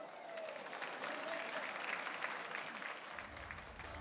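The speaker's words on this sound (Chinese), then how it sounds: "一起来掌声欢迎今天的开球捕手，一起来欢迎江少庆" Crowd applause at a Fubon Guardians baseball game in Taiwan, welcoming the ceremonial first-pitch catcher; steady, dense clapping fills the stadium throughout, with a faint announcer voice running underneath.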